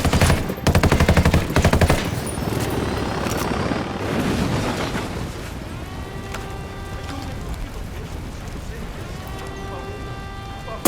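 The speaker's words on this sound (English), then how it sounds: "Chopper incoming." Ghost Recon Wildlands video game combat: heavy bursts of automatic gunfire up front, then a helicopter's rotor thump and whine arriving and hovering while scattered shots continue.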